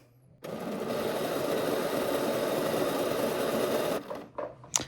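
A sewing machine stitching a seam with the presser foot down, a steady fast whirring hum that starts abruptly, runs unbroken for about three and a half seconds, then stops, followed by a few light clicks.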